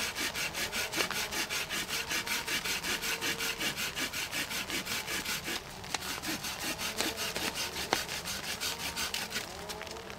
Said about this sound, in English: Let me cut up a couple pieces. This is some very wet tulip poplar.